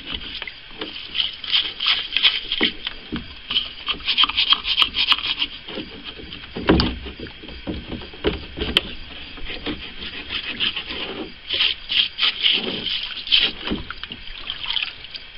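A small brush scrubs rust off metal that has been soaked in a molasses and water mix, making continuous scratchy, rasping strokes in uneven bursts, close by and alone.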